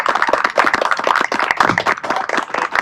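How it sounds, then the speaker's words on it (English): Close, loud clapping from a small audience at a Scout bridging ceremony, individual claps clearly audible in a brisk, uneven patter rather than a dense roar. "Give the boys a round of applause."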